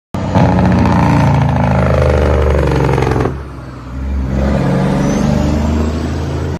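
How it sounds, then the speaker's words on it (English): A heavy Cummins diesel truck engine roars with the loud, rapid staccato rattle of its Jake brake, dips briefly, then the harsh blatting resumes up close. "The Jake brake made noise. A lot of noise."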